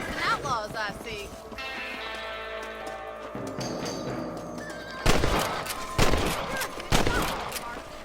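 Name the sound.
gunfire shooting rabbits in Red Dead Redemption video game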